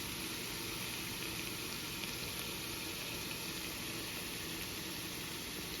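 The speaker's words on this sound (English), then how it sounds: "I love that sizzling sound." Steady hissing sizzle, like food frying in a hot pan, continuous and even throughout with no voices.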